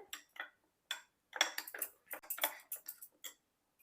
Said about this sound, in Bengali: সমস্ত কিছু ভালোভাবে মিশিয়ে নেব এখানটায়।